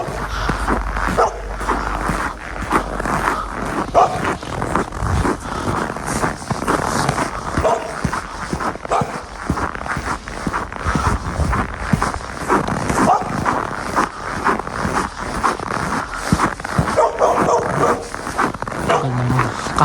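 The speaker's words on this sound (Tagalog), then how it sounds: "Kahul ng aso na yun ah." A dog barks outdoors in a town in Canada, giving repeated sharp barks at irregular intervals, moderately close, while a person talks over the scene.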